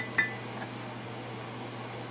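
A single light clink of a glass item, a mug or cup, as it is handled during an unboxing of store purchases, short and faint against a quiet room hum.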